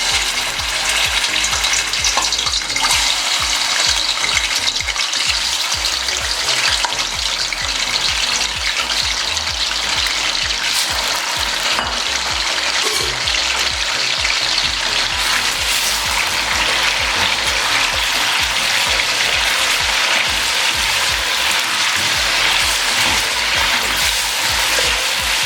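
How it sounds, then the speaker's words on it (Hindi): Half a kilo of chicken fries in hot oil in a karahi, a loud, dense, continuous sizzle and crackle that runs unbroken throughout, with occasional stirring, no talk. "अब इसमें चिकन ऐड करेंगे और इसको 4 से 5 मिनट के लिए अच्छे तरीके से फ्राई करेंगे।"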